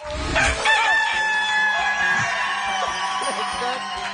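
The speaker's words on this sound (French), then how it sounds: "Notre coq qui chante, ça signifie un deuxième œuf pour vous" A rooster crowing sound effect plays on a French TV game show about golden eggs, a loud drawn-out cock-a-doodle-doo with clucking and studio noise beneath it.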